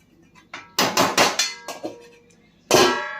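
A metal lid is set onto a cooking pot in a home kitchen, sounding as a cluster of loud, sharp clangs and rattles, then a final bright clank as it settles, close by with no talk.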